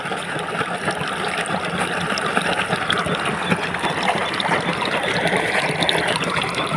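Water carrying dissolved urea fertilizer flows steadily into a fennel field in Gujarat, a continuous trickling, gushing stream close by with no pauses across the whole stretch.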